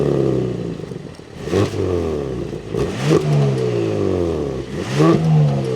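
A 2026 Audi S5 Premium Plus engine fires up and revs, with several rising and falling rev sweeps building to loud peaks near the car, alone without any talk.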